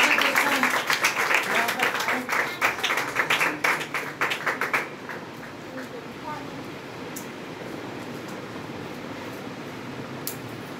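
Audience applause in a church gathering, dense clapping for the first five seconds that then cuts out and leaves a low steady room hum.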